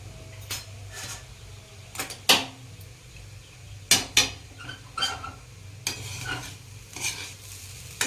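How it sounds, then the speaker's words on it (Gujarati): Spices being stirred into crumbled rotla in a pan, close scraping and clinking of a spoon against the pan in irregular strokes over a soft background sizzle. "આપણે બધા મસાલા રોટલા સાથે મિક્સ કરી દઈએ."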